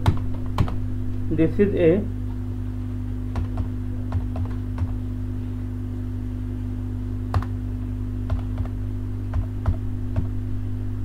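Typing on a computer keyboard during an HTML tutorial, scattered separate key clicks across the clip, fairly close, with a voice speaking briefly near the start over a steady electrical hum.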